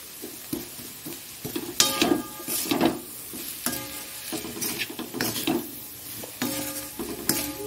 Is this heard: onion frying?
yes